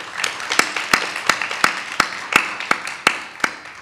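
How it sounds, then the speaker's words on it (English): An audience claps for vocalist Merrick after his recital. The clapping is sparse and evenly spaced, about a dozen distinct, crisp claps at a steady pace, close and fairly loud. "So big round of applause for Merrick real fast."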